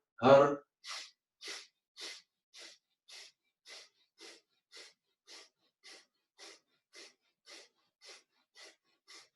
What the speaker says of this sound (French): continue ton pompage, ta respiration du feu par le nez